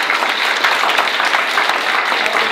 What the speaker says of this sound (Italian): facciamo un applauso alle Stelle Nascenti